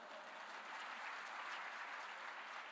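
A church congregation claps during a sermon, a soft, even wash of applause heard from a distance, steady for a few seconds with no voices over it.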